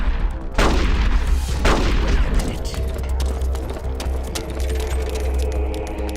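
Gunfire in Metal Gear Solid: Twin Snakes on GameCube comes as two heavy, booming blasts in quick succession, followed by a rumbling, clattering tail.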